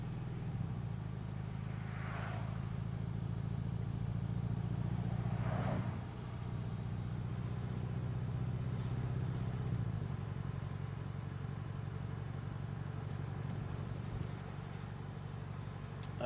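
A car engine droning steadily while driving, low and continuous for the whole stretch with a couple of faint brief clicks and a slight dip partway through, no talk.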